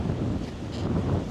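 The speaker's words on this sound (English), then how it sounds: "It's gusting like 30 something miles an hour." Strong wind gusts at around thirty miles an hour, buffeting the microphone as a steady, loud, low roar with rough rumbling and no voices.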